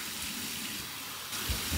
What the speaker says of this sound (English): Here's my warm water rinse.